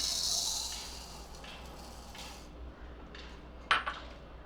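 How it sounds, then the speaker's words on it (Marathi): Quiet room tone, then a brief clattering rattle as coriander seeds spill into a mixer jar, with a second smaller patter just after. "आता मिक्सरच्या भांड्यामध्ये मी धणे घालते"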